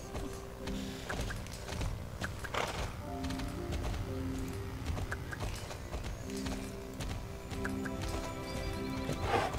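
A Jorvik warmblood horse in the Star Stable game trots with steady, rhythmic clip-clop hooves and lets out several whinnies, close and clear with faint game sounds behind.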